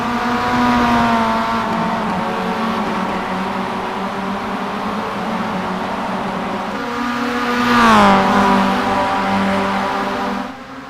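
Race cars on the opening lap of a 14-lap sim racing game event in Canada, a steady droning engine whine that swells and pitches down as a car passes close near the end before fading.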